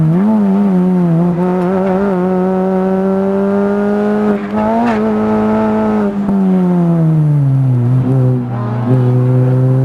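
MINI Cooper race cars in the Scottish MINI Cooper Cup at Knockhill circuit drone past with loud, sustained engine whine that dips and climbs through gear changes, close and continuous with occasional tyre noise.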